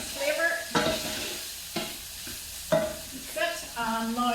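Minced meat sizzles and fries in a pan while a spoon scrapes and stirs it, with several distinct stirring scrapes over a steady close crackle.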